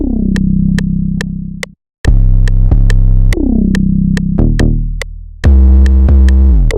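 Deep 808 bass notes boom and slide in a repeating pattern while a steady metronome clicks evenly on top, with one brief silent gap.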